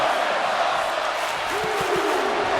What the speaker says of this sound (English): And Jacy Jayne is firing up the crowd here.